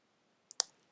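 Two quick computer mouse clicks, close and crisp, the second slightly louder, against near silence.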